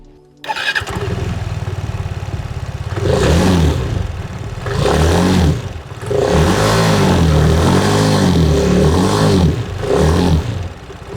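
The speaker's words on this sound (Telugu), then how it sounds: "సో ఈ స్కూటర్ ఎగ్జాస్ట్ నోట్ ఎలా ఉందో ఒకసారి చూద్దాం మనం" A 2025 Aprilia SR 175 scooter with a 175 cc engine starts and idles nearby, then revs repeatedly in rising and falling bursts, its exhaust note loud and close with no talk.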